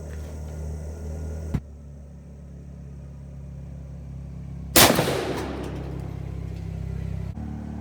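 A single loud 10 gauge shotgun blast firing a 2-1/2 oz Turkey Thunder turkey load outdoors, one sharp report with a trailing echo over a steady low engine-like rumble.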